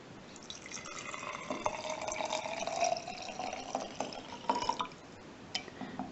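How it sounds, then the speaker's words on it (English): Warm water is poured into a glitter jar, a close trickling and dripping fill with a rising, glassy gurgle that stops in short bursts near the end. "The next direction was to add 1 cup of warm water."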